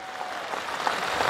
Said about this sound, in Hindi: अरे सब ताली बजाइए सब लोग